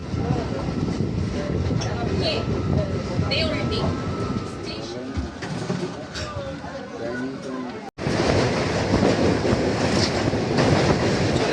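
A Howrah to Panskura local train rumbles and rattles along with steady clickety-clack, heard from inside the carriage. Voices talk over the running noise throughout.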